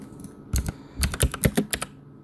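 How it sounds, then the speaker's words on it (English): Keystrokes on a computer keyboard while typing a material name into 3D rendering software, several distinct close clicks in an uneven burst after a short pause, with no talking. "Let's type in RS displacement."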